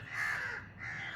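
A crow caws in two drawn-out, hoarse calls close by, the first longer and louder, the second following after a short dip, with no talking.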